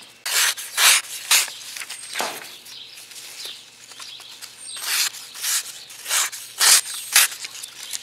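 A Lansky knife sharpener honing a blade, a series of close, bright rasping strokes in an irregular back-and-forth rhythm, about a dozen passes with short pauses, no talking.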